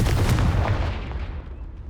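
Confringo fire spell exploding in Hogwarts Legacy, a loud, close booming blast with a deep thud that rolls away and fades over the next second or two.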